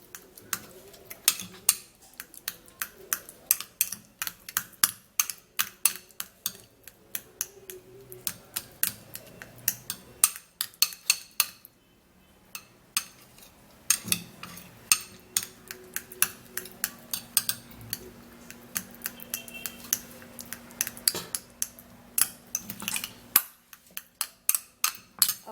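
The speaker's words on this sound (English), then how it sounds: "I'm going to mash it. Mash it very smooth." Soft food being mashed very smooth, probably with a utensil against a bowl: steady, rapid clicking and tapping strokes in a continuous irregular rhythm, close and fairly quiet, with no talk.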